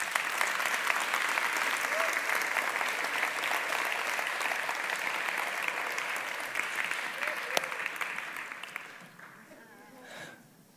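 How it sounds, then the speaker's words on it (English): An audience applauds as two people are brought on stage at a coaching event, dense steady clapping for about nine seconds that fades out, with a voice speaking briefly at the end. "Give them a round of applause,"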